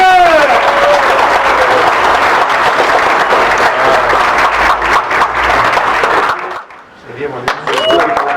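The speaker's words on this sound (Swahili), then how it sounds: "Tupige makofi." Loud, sustained applause from a crowd at the opening of a school boarding block at a primary school, continuous for about six seconds before a brief drop, then clapping resumes.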